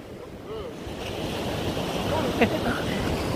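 Sea waves breaking on an English beach, a steady roaring wash of surf with wind noise on the microphone, loud and continuous for a few seconds, no voices.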